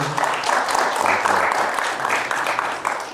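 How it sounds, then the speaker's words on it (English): Audience applause for Ustadh Hassan at the close of a question session at TaqwaCon, a steady, dense round of clapping from a crowd that holds for the whole stretch without fading. "round of applause for Ustadh Hassan, everybody"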